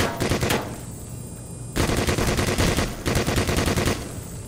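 Rapid automatic gunfire in the video game Black Mesa, aimed at headcrabs, sustained loud bursts of fast repeating shots separated by two short pauses, close and harsh.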